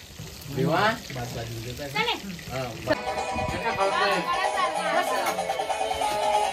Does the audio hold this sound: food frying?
yes